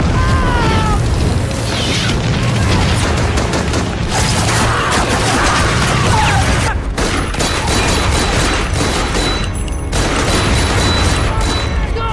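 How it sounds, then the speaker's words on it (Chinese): Artillery shelling pounds the Battle of Peleliu in a dense, continuous roar of booms and bursts, loud and close, with crackling fire and rumbling blasts layered throughout. "日军炮火密集地砸向美军士兵"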